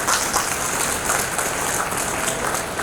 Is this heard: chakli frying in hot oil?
no